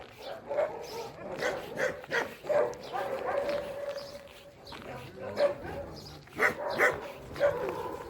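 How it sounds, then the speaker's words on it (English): A happy three-legged dog at Iran's first animal shelter, with repeated barks, yips and whimpers from several dogs close by, mixed with some voices. "But she's a happy dog, Barfi."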